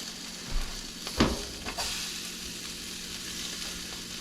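Onions, mushrooms and other vegetables dropped into a hot pan, producing a steady hissing sizzle with a couple of brief thumps and stirring bursts early on, close and moderate, with no talking.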